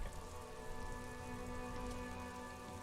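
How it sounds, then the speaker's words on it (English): Rain falls steadily on the city of Revachol in the video game Disco Elysium, dripping from eaves and running into flooded gutters, a dense continuous patter layered over a low hum of background music. "Rain drips from the eaves and floods the gutters, washing the filth away."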